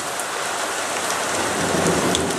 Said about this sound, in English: Oh, listen to that thunder, isn't that beautiful?